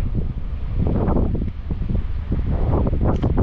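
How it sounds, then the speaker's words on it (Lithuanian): Strong wind by a river during fishing roars as continuous, heavy buffeting close to the microphone, rising and falling in gusts, with no one speaking. "Vėjas susmarkėjęs"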